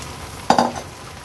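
Barnyard millet batter for a traditional seven-layered fasting dosa hits a hot pan with a single short sizzling, scraping burst as it is spread, then quickly fades back to quiet.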